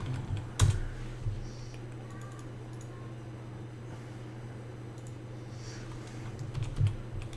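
Fast, light clicking of a computer keyboard while a folder name is typed, a near burst of keystrokes over a low steady hum, with a couple of louder knocks at the start and end.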